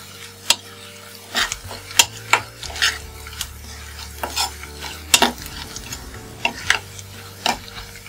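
Whole panch phoron spices sizzle in hot oil in a pan while a spoon stirs them, giving sharp irregular scrapes and clicks over a low steady frying hiss, for an elephant apple pickle.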